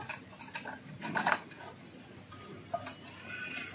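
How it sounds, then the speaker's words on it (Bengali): Lid being opened on a steamed chicken bhapa container, a few light metallic clinks and scrapes, quiet and close, with one brief tap after a pause. "ঠান্ডা হয়ে গেছে বন্ধুরা এবার ঢাকনাটা একটু খুলে নেব।"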